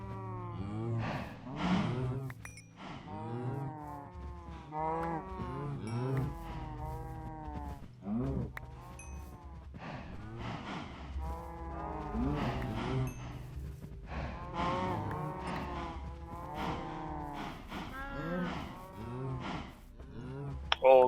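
Cows in the Minecraft video game moo repeatedly, the calls overlapping in a busy, uneven rhythm, some near and loud, others softer, with no talking.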